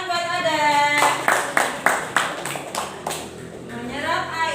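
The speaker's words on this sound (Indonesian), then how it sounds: "Tepuk tangan buat Aden." A classroom of primary school pupils claps in a short burst of about seven sharp, evenly spaced hand claps, fairly close, set against a background of voices and chatter.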